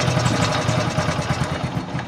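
A Honda CT125 motorcycle engine with a worn, crumbling camshaft bearing runs close up with a steady, fast pulsing rattle and a noisy grinding undertone.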